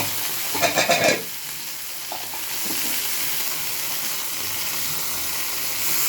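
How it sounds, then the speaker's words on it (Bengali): Sauce poured into a hot pan of fried onion and capsicum for chili soyabean bursts into a loud sizzle with a few stirring scrapes, then settles into a steady, softer frying hiss up close. "এবার যে সসটা করে রেখেছিলাম সেই সসগুলো দিয়ে দেবো"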